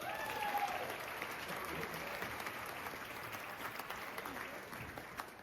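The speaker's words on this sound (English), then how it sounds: "quick round of applause for Main Street Harmony" A roomful of people at a 40th-anniversary event in the 310 Events venue in Faribault gives a round of applause for the Main Street Harmony group, moderately loud at first and gradually tapering off, heard from a short distance.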